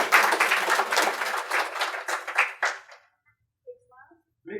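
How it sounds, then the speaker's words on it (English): Dense, loud clapping from a crowd at a city council meeting for about three seconds, fading quickly into near silence with a few faint vocal sounds afterward. "Let's give them a big round of applause and take a picture."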